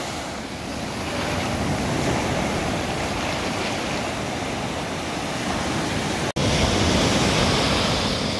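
Steady, loud rushing surf of sea waves washing continuously onto a beach, with a brief dropout near the end.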